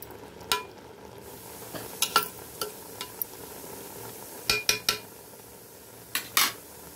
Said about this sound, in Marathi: अशा प्रकारे आपण भात पसरवून दिलेला आहे.